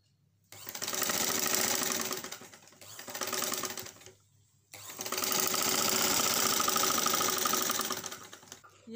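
A sewing machine stitching a coat collar for a kurti or suit runs in three close, loud bursts of rapid needle chatter, separated by brief pauses.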